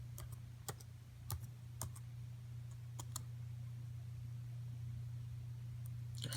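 Light, scattered keystrokes tap on a computer keyboard, a few irregular sharp clicks over several seconds against a steady low hum, fairly quiet and close.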